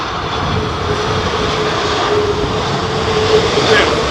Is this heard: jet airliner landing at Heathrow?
yes